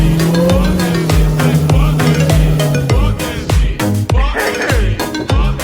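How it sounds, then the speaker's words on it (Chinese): A Dodge Hellcat on skinny thin wheels does a burnout, loud engine roar and revving mixed with harsh tire screech, rhythmic pulsing bursts and low thumps throughout, close and continuous. "没想到烧起胎来效果还不错"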